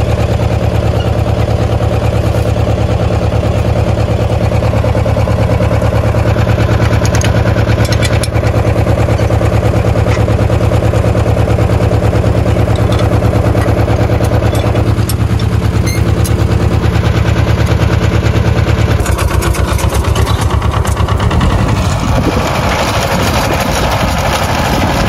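A tractor engine runs steadily with a hitched cultivator for interweeding on a farm, a loud continuous rumble with a dense rattling chatter throughout and a change in tone near the end.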